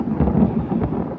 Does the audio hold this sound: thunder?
yes